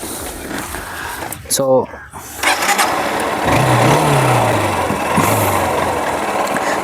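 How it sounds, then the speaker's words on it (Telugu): A Honda Unicorn motorcycle is kicked into life: a brief starter whir, a pause, then the engine catches and settles into a low, steady running note close by, with someone speaking over the start. "నేను బైక్ని స్టార్ట్ చేసి చూపిస్తాను మీకు"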